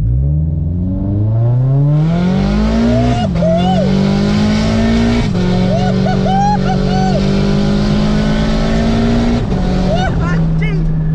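A turbocharged Subaru BRZ with a Varis bodykit accelerates hard at full throttle, the engine note climbing loud and close through several gear changes with brief dips between them, while people talk over it.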